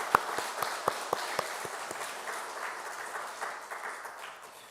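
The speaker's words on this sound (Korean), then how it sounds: "우리 모두 이 등마루의 모든 부모님께 드리는 큰 박수로 우리가 하나님 앞에 같이 영광을 올려드리면 좋겠습니다" Church congregation applauding for parents during a Parents' Day service, a scattering of sharp claps at first that swells into a soft, steady wash of applause filling the sanctuary.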